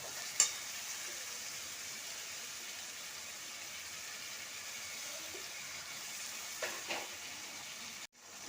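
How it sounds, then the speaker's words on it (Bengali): Chicken and egg fry with soy sauce in a korai. A faint, even sizzle runs throughout, with a few soft clicks of stirring near the start and toward the end. "এবার এতে দিলাম অল্প একটু সোয়া সস দিয়ে ভালোভাবে নেড়ে মাংস আর ডিমটা দিয়ে দিলাম।"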